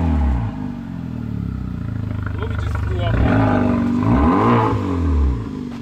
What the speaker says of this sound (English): you gotta rev it before you turn it off